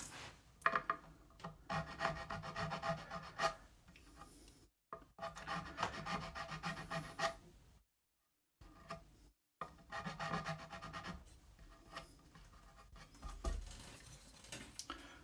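A file rubs across the fret ends of a Gibson Les Paul Junior guitar in short, light rasping strokes. The strokes come in repeated bursts with brief silent gaps between them, close up and fairly quiet.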